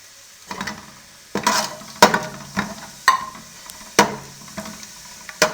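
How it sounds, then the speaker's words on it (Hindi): Whole spices, including black cardamom, fry in a pan over a medium flame as a spoon stirs them, producing a low sizzle broken by repeated sharp scraping strokes in a steady rhythm, close and alone. "अब खड़े मसालों को 1 मिनट मीडियम फ्लेम पे फ्राई करेंगे।"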